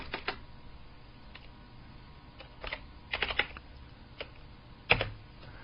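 Computer keyboard keys tapped while resizing an image in GIMP, a few scattered soft clicks then a quick burst of keystrokes and one sharper final press, close and quiet with no talking.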